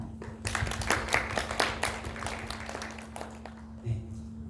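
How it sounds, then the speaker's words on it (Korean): Scattered clapping from an audience at a church high school youth worship service, a modest burst of hand claps that fades out after a few seconds. "우리 격려의 박수 하겠습니다"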